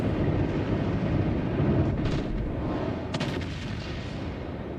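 Warship secondary guns fire in the naval video game World of Warships Legends. Dense rumbling booms sit over a continuous heavy roar, with a couple of sharper reports standing out. No voices are heard.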